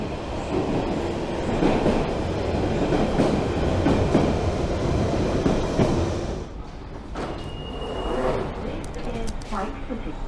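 An eastbound London Underground Central line train rumbles and clatters loudly into the station at night, wheels screeching, then quiets as it comes to a stop with some station noise.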